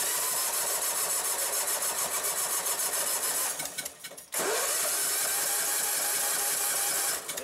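A Honda engine on a drop tank go-kart runs with a steady rapid chugging, cuts out briefly, then fires up again and keeps idling close by.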